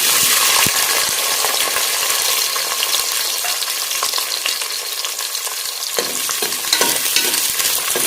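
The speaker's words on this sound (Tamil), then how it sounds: "நல்லா வதங்கட்டும் வெங்காயம்." Small shallots sautéing in hot oil for a country chicken curry, a loud, steady close sizzle with bright crackling and occasional spoon scrapes against the pan, running continuously without talk.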